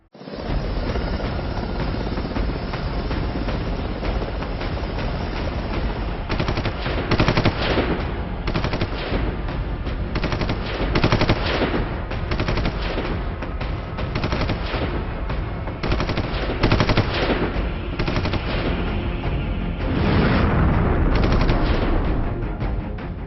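Gunfire and explosions during an NSG commando drill: sustained, loud bursts of automatic weapon fire with repeated heavy blasts, continuing without pause through the whole stretch.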